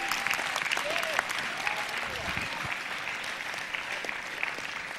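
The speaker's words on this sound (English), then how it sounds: "Clap your hands, all you kingdom citizens." Audience at a sermon clapping hands, a sustained dense burst of applause from a large crowd throughout, with a voice faintly underneath.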